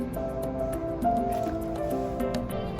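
Water poured into the soil of a small potted basil plant gives soft, wet squishing and dripping sounds, a gentle continuous trickle with small splashes, close and fairly quiet.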